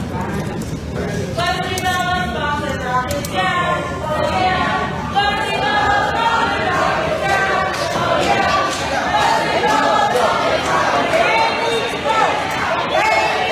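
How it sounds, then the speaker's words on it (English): A large crowd packs a town hall meeting, a loud, steady wash of overlapping voices and shouting that carries on throughout, with several people talking over one another close by. "Is that the crowd?"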